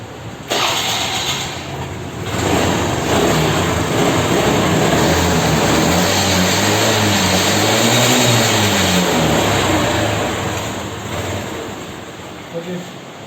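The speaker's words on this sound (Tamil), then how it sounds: "ஓகே, இன்ஜின் கரெக்டாக ஸ்டார்ட் ஆகுது, அந்த பிரச்சனை இல்லை." A TVS Scooty scooter engine, just rebuilt after half-engine work, starts and runs with a buzzing idle that rises and falls through a few revs before settling, heard close with some background noise.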